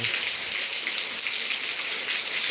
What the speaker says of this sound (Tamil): வீட்டுக்கு முன்னாடி பக்கத்து வீட்டிலலாம் பைப்புலலாம் தண்ணி இப்படி தான் வந்துட்டுருக்கு மேலேருந்து வளைஞ்சி வந்துட்டுருக்கு நல்ல மழை அடித்து விட்டுது